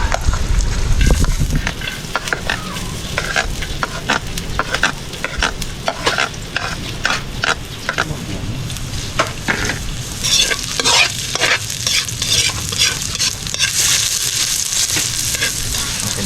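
Ginger sautéed in a pan at the seaside, with a steady sizzle of frying broken by repeated scraping and stirring strokes, close and fairly loud throughout with no talk over it.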